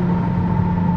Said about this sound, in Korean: 5000 넘어가 시작하면 막 엔진이 갈리는 느낌 나거든요